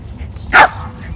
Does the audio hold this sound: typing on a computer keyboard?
no